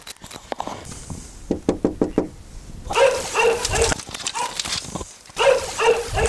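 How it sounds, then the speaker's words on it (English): A dog near a trailer on a desert highway barks repeatedly, a run of sharp evenly spaced barks followed by louder, denser barking in bursts with short pauses, close and prominent. "Nice dog there."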